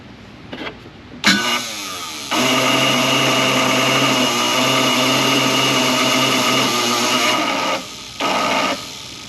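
A thirty-year-old snow blower engine, left sitting outside for years, cranks over on a weak electric starter, turning in a labored, sustained whir that runs for several seconds, stops briefly, then starts up again for another short burst.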